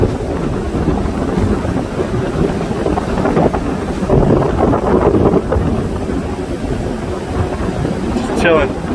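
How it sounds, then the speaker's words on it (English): Strong wind on a beach hike buffets the microphone throughout with a continuous rumbling roar, with a brief high chirp near the end. "I would say slight wind, but that would be cutting it short. It's just windy."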